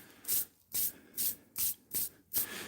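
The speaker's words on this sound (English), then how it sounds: "Is that the bench sander, mate?" A bench sander grinds a custom lockpick in six evenly spaced, hissing rubbing strokes, each rising and falling with short pauses between, close and loud with no one talking.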